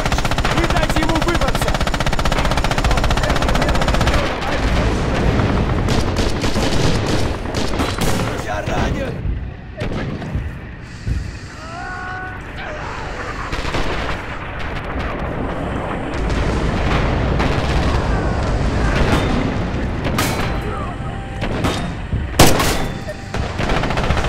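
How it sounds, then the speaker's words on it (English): Artillery shelling and gunfire in the WWII game Heroes of Stalingrad at the Red October factory: continuous loud barrage of booming blasts and rattling shots, with a brief lull midway before the roar builds again, ending in a sharp crack. "Artillery will take care of the rest."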